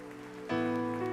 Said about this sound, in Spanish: Dale más fuerte ese aplauso a Dios porque es para Él